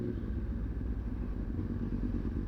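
Motorcycle engine running steadily while the rider downshifts manually, a low, continuous rumble that stays close and even throughout, with no voices over it.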